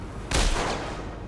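A single sharp gunshot from the Batman Arkham City video game, loud and close, with a short boom trailing off into a lingering rumble.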